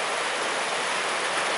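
A river rushes past in a steady, dense wash of flowing water, close and continuous for a brief moment with no voices.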